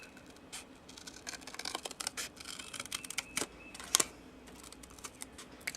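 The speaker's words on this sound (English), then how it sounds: "we're going to cut out the lid" Paper being cut by hand while making a corner bookmark, heard as a scatter of small, quiet snips and crisp rustles at close range with uneven spacing and no talking.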